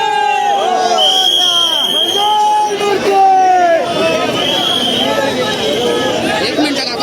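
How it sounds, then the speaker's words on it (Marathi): A dense crowd chatters and calls out all around at the Borivali Maharaja arrival procession in Mumbai, a close, continuous hubbub of many voices with occasional shouts, and one voice speaking nearby. "सर्व साईडला गर्दी बघा. फक्त गर्दी बघा."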